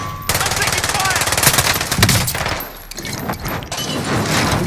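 Video game gunfire crackles in rapid automatic bursts, loud and close, with brief gaps between volleys and a voice talking over it.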